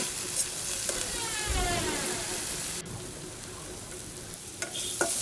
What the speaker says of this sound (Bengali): লাউ ভাজি করছি একটা ছোট্ট লাউ নিয়ে এসেছিলো সেটাই ভাজি করে নিয়েছি